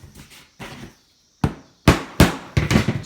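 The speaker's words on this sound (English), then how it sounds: "Then you take your hammer and you give it a couple of taps." Hammer tapping a piece of scrap wood locked in place during a home improvement job, several sharp, close knocks, two softer ones first and then a quicker run of louder strikes with brief gaps between.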